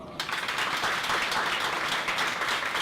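An audience at a live show applauds loudly and steadily, a dense wash of many hands clapping together from start to finish.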